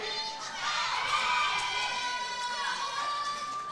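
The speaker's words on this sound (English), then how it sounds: "Crowd's getting loud for Kate." Spectators at a student and university world weightlifting championship cheer and shout loudly for a lifter, a swelling crowd roar with high yells that builds and holds throughout.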